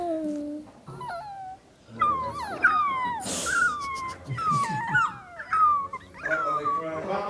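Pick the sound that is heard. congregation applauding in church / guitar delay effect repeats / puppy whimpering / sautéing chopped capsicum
puppy whimpering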